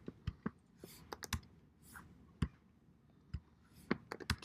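Quiet, irregular clicks and taps of fingers typing on a computer keyboard, a few keystrokes at a time with short pauses between them.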